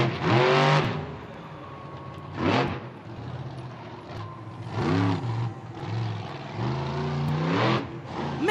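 Jester monster truck engine revving hard in repeated surges while spinning a donut at the center of a Monster Jam Fast Track arena in Atlanta, loud and close with deep rising and falling engine tones.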